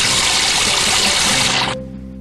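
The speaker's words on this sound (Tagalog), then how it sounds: "Tumutulo na gripo ngayon." In a cartoon, water runs in a steady, fairly loud stream from a faucet and then cuts off abruptly near the end, leaving a faint hum behind.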